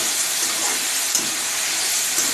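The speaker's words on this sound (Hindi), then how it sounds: "अब हम इसमें कटे हुए टमाटर डालेंगे। देर हम टमाटर को पकाएंगे" Chopped tomatoes hitting a hot pan for baingan bharta, a steady bright sizzling hiss throughout with no talking, loud and close.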